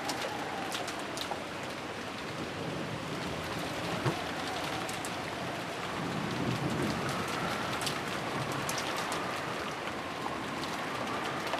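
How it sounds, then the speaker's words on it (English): Steady rain falling over a garden, a dense, even hiss with scattered droplet taps, continuous for the whole stretch, with a faint bird cooing in the background. "It disappeared beneath the sound of the rain."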